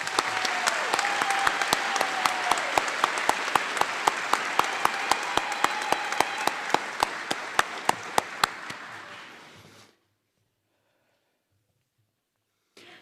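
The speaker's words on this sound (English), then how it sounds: "Please join me in giving our graduation speakers a great round of applause." A graduation audience at an Anne Arundel evening high school commencement claps for its speakers, dense sustained applause with a sharp rhythmic slap running through it, stopping abruptly after about ten seconds.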